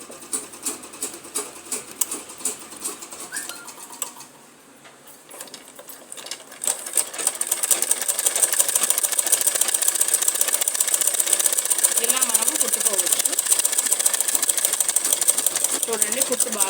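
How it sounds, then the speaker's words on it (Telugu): A sewing machine stitches a line of pink thread in a tailoring lesson, starting with short stop-start bursts, pausing briefly, then running in a loud, fast, steady mechanical whir close by. "ఇప్పుడు నేను ఒక లైన్ వేసి మీకు కుట్టి చూపిస్తాను చూడండి"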